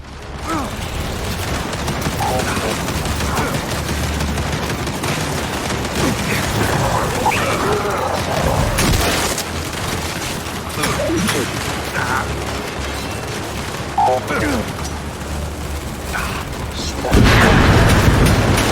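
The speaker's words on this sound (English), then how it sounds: "We can't deal with those turrets!" Turret gunfire in a Gears 5 battle, with sustained mechanical shooting and booms amid combat noise and shouted voices.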